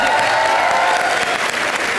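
Steady, dense applause from a studio audience at a live comedy show, loud and continuous throughout with no pauses.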